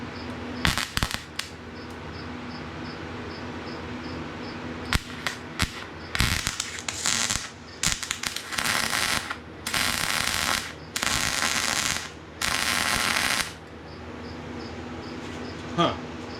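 Cheap Amazon MIG welder laying a bead with a feeding stutter: bursts of crackling, sputtering arc noise that start and stop irregularly, with gaps of quieter hum between them and a voice speaking at points.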